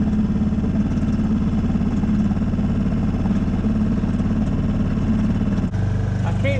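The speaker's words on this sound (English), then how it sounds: "he's adamant he wants the engine on" A steady, low sailboat engine drone runs continuously at an even level, with a brief dip near the end before it carries on.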